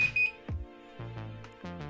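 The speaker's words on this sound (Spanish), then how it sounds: "Ahí escucharon que sonó dos veces el beep del buzzer" An infrared-controlled door alarm's buzzer gives short electronic beeps, close and clear, with tonal pulses separated by brief gaps and no voices.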